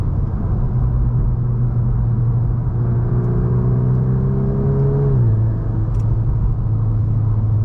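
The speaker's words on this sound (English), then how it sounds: "So in this mode you guys will definitely hear that augmented sound." VW MK8 Golf R in race mode with augmented engine sound, a loud steady low droning rev that rises slightly in pitch, then drops back to a lower hum, with no talking.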